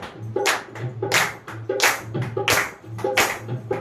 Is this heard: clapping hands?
yes